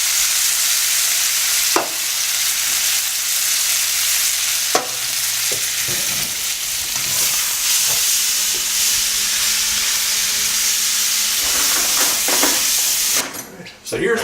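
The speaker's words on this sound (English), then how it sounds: "I'm just going to stir fry all of that together." Meat and drained canned vegetables stir-fry in a pan, a steady loud sizzle with occasional scrapes and clinks of stirring throughout, ending in a brief clatter.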